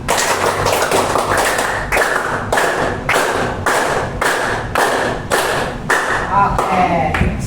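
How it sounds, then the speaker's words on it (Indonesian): A group of people in a classroom claps hard in unison ten times, each loud sharp clap evenly spaced about a beat apart, with brief voices near the end. "kita tepuk tangan 10 kali tepuk, tetapi dalam tepukan tangan tersebut harus kencang"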